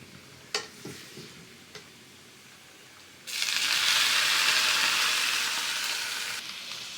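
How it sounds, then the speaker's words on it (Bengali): Red amaranth greens stirred into a pan with chilies: a few clinks and scrapes, then a loud sizzle erupts and holds steadily before easing slightly. "শাকগুলা এখন ভালোভাবে একটু নাড়ি নেব"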